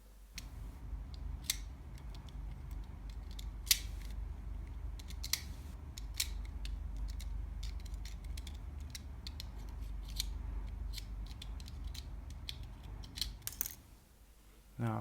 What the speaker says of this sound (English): So I'm just going to cut all the traces of copper between all the LEDs,